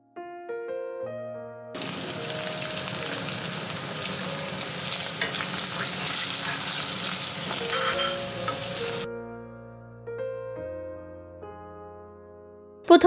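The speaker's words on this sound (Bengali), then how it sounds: "প্রথমে তেলে একটু লবণ হলুদ দিয়ে আমি লেচটাকে ভালো করে ফ্রাই করে নিলাম।" Hilsa fish tail frying in hot oil with salt and turmeric, a loud, dense, continuous sizzle that bursts in suddenly and runs for several seconds with crackles, set against steady tonal background music.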